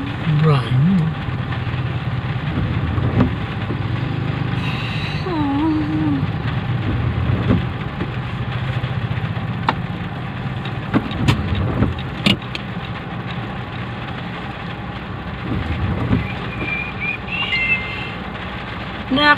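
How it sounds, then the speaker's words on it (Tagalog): Road traffic in a congested Philippine street, with cars and engines idling and passing close by in a continuous rumble while people talk over it. "Nakita nyo, ang traffic na naman."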